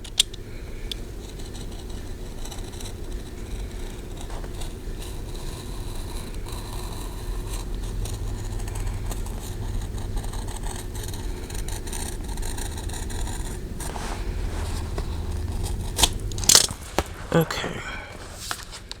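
A blade works through the spine binding of a Stalogy B6 notebook in close, repeated scraping and cutting strokes that get louder and more abrupt near the end, with quiet talk at times.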